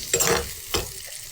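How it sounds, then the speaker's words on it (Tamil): Onion, garlic and green chilli sauté in a pan, with two quick scraping stirs over a soft, close sizzle. "எல்லாத்தையும் போட்டு வதக்குவோம். நல்லா வதங்கணும்."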